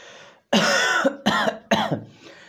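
Three forceful, throaty coughs in quick succession, close and loud, each a harsh burst of breath.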